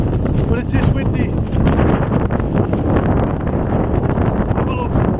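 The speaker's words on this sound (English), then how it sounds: "Be able to take something down when it's this windy." Strong wind buffeting a small tent while wild camping on the Northumberland hills, a steady roaring rush with flapping fabric and mic buffeting, and someone talking over it.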